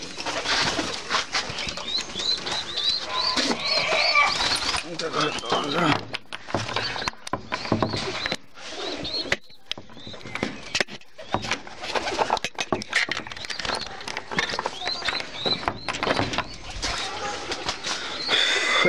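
Pigeons in a breeder loft coo steadily, with bursts of wing flapping and shuffling close by. A person talks over the birds throughout.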